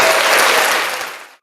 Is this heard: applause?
yes